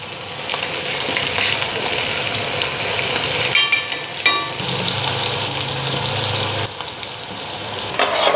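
Close, steady sizzling of onions frying in hot oil, with occasional scrapes and stirs of a utensil against the pan.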